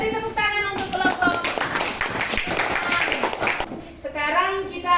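A classroom of children claps for a group of classmates during a lesson, a burst of close, busy clapping with kids' voices chattering over it, bracketed by a teacher talking at the start and end.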